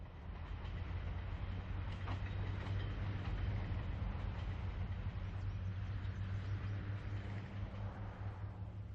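The westbound B&O Shenandoah, train number 7, pulls into Fostoria, Ohio, its diesel engine rumbling deeply and steadily with rail noise and clatter layered above, close and continuous for the whole stretch.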